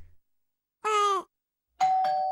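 A two-tone ding-dong doorbell chimes, a bright ringing note followed by a second sustained tone after a short silence, clear and close with nothing else around it.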